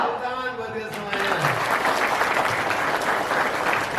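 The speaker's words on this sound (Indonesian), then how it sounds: "Tepuk tangan buat kita semuanya." An audience at a monthly religious gathering in a Sundanese restaurant breaks into loud, sustained clapping after a voice on a microphone trails off.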